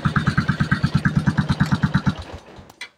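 A Yamaha Sniper 135 motorcycle engine idles with a steady, rapid chugging pulse, close and loud, then cuts out near the end.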